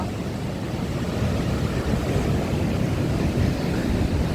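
Sea surf rolls onto the Odesa shore in late November, a dense, continuous roar of waves and foam heard close and fairly loud, with wind noise and no voices.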